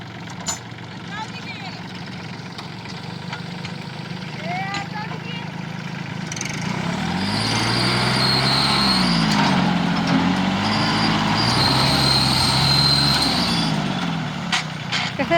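A tractor engine runs nearby, a steady idling rumble that grows louder and rougher midway as it works, with people talking over it throughout.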